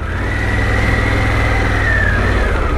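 A Harley-Davidson Pan America motorcycle engine running loud and close as the bike rides off, a steady low drone with a rising then falling whine as it pulls away.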